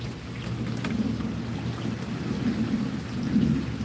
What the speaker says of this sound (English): But this storm, I didn't know it was going to be this heavy.